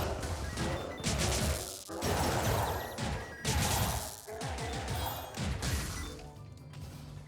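Wizard of Legend's nitroglycerin barrels go off in a dense, chaotic series of loud crashing blasts and smashes, with one blast after another and little pause between them.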